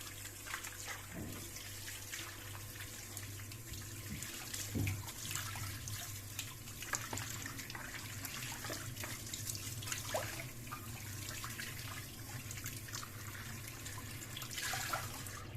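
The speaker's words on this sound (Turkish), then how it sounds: "Ve durulamaya geçiyoruz." Tap water runs steadily while a washing machine's detergent drawer, caked with limescale and residue, is rinsed in a sink. The stream hisses and splashes continuously, with occasional louder sloshes and clunks as the plastic drawer is handled under it.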